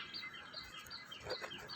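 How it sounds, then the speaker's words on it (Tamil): Small birds chirping and calling near a peacock feeding spot, a quiet scatter of high tweets over soft background noise with no talk. "மயில் மட்டும் இல்லை, புறா, அப்புறம் மைனா, காக்கா எல்லாமே டெய்லி வந்துடும்."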